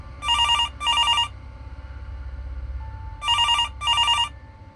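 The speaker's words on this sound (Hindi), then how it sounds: "फिर से फोन की घंटी बजी" A telephone rings in two double bursts, each a pair of bright electronic trills, separated by a pause with a low background hum underneath.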